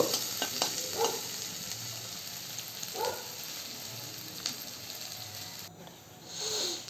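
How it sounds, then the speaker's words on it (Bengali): Onions frying in hot oil, a steady close sizzle with a few stirring knocks and scrapes, sound dropping briefly near the end. "এইবার যেই তেলটুকু ছিল এই তেলটুকুর মধ্যে আমি পেঁয়াজটা দিয়ে দিলাম পেঁয়াজটা আমি লাল করে ভেজে নেব"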